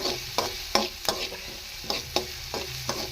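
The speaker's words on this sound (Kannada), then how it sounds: "ಒಂದೇ ಈರುಳ್ಳಿ ಹಾಕಿ ಚೆನ್ನಾಗಿ ಫ್ರೈ ಮಾಡ್ತಾ ಇದ್ದೀನಿ" Onion frying in a pan while a household serving spoon stirs it, giving a steady low sizzle broken by about ten sharp scraping clacks at uneven intervals, close and moderately loud with no talking.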